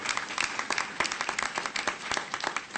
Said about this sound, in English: Yes, he does deserve a round of applause.